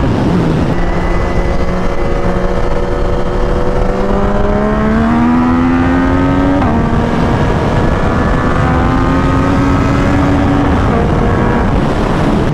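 A Yamaha MT-09 motorcycle accelerating hard, its engine note rising steadily through the gears with a brief drop at a shift, loud and close for the whole stretch with no talk.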